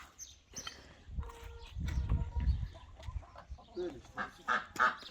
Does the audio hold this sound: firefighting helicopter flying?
no